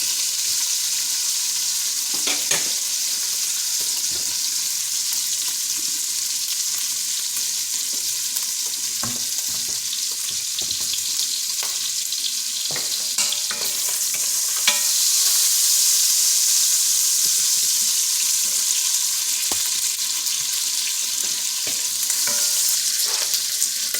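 Garden cabbage fries with smoked meat in a pan, giving a steady, close sizzle with occasional stirring scrapes and clicks, no voices.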